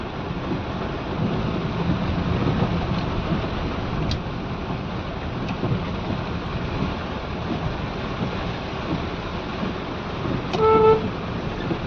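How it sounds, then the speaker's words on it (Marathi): Steady rain falls outdoors around a work site where glass is being fitted to a machine, a dense continuous hiss with low thunder rumbling underneath and a brief horn-like tone near the end. "पाऊस पडतोय"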